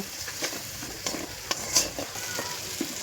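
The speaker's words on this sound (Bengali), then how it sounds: "মিশ্রণটি ভালোভাবে মিশিয়ে নেব" A spice mixture with garam masala is stirred in a pan for a fish curry, a soft steady sizzle punctuated by a handful of evenly spaced spatula scrapes and taps.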